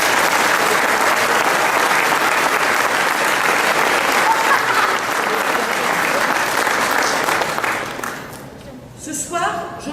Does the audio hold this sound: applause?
yes